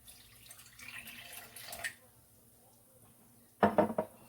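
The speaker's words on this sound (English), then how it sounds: "Okay, so I'm going to start to pour my water." Water being poured into a bowl while mixing a dough for Caribbean fry bakes: a short, fairly close burst of pouring and splashing near the end, after a quieter stretch of faint kitchen noise.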